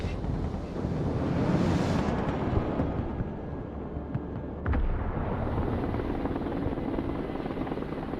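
A Chinook helicopter flies in the real-time strategy video game Broken Arrow, its steady rotor drone and wind-like roar continuous and fairly loud, with a brief thud near the middle.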